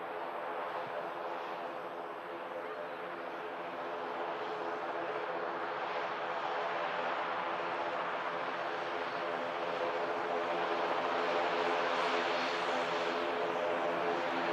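An airplane departing for Amsterdam gives a steady, broad roar at moderate distance that swells slightly over the span, with no talk over it.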